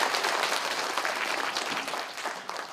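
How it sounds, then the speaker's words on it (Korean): An audience at a public hearing in Buk-gu, Gwangju claps together in a dense burst of applause that starts loud and gradually fades over a few seconds. "다시 한번 박수 부탁드립니다"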